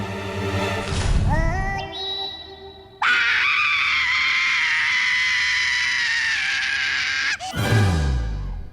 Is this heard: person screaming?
yes